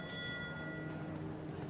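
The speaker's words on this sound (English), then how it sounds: "the jury will ring the bell" A jury bell rings at a show jumping event, a single clear strike that rings out and decays over the background of the arena.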